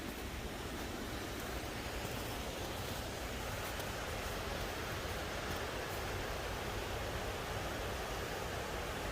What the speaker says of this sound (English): This here is a fresh spring waterfall